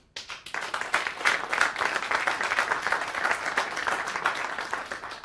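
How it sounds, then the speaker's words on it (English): Audience applause from a live crowd responding to a yes-or-no vote on a debate question, a dense, sustained burst of many hands clapping that starts abruptly and stays fairly even throughout. "Those who believe yes, please applaud."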